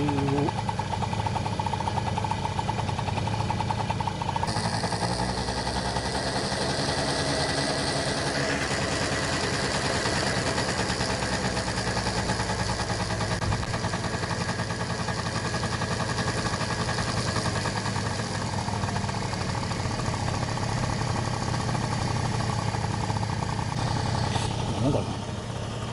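Honda Tact scooter engine idling steadily during carburetor adjustment in a no-start repair, a continuous close mechanical drone with a few shifts in tone partway through.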